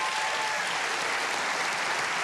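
A television studio audience applauds loudly and continuously, dense even clapping with no voices, filling the whole stretch at steady volume.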